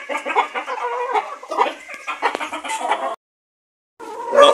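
A free-range hen clucks and cackles in rapid bursts while being set on a nest of eggs to brood, close and loud, with a short pause of silence before the clucking resumes.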